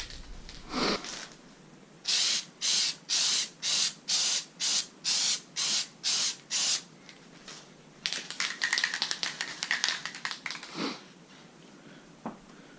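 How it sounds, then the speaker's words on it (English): Spray adhesive is sprayed onto a Nissan 240SX door panel being reupholstered: about nine short, loud, evenly spaced hissing bursts, then a stretch of quicker, rougher spraying and faint handling noises. "A couple sprays and then we'll be good."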